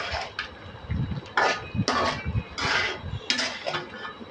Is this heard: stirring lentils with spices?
yes